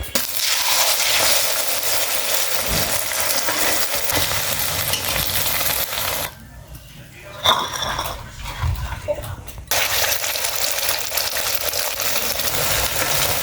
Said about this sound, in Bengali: আবারও 2টা ডিম মেখে ভেজে নেওয়া হবে